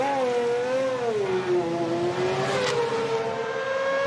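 Ferrari 412 T2 Formula 1 car with a V12 engine on track: a high, screaming engine wail that rises and falls smoothly, loud and continuous, with no voices.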